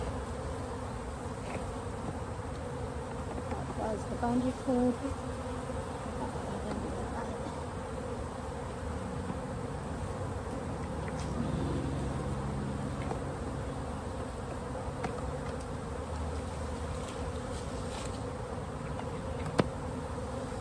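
A swarm of honey bees drones in a dense, continuous buzz close around, with brief rustles and a short spoken remark partway through.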